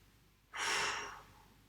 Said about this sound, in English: Through parted lips, blow the exhale away